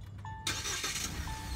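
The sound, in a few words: Mahindra Alturas G4 SUV engine starting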